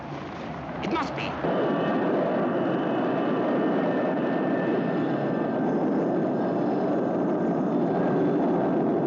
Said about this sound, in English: It's a search plane. It must be.